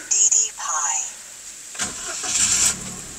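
Engine of a 2024 base Toyota Wigo with manual transmission starting up, a short crank and catch that settles into a low idle, heard from inside the car with a brief electronic chime at the start.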